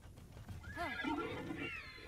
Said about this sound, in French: Un cheval mécanique.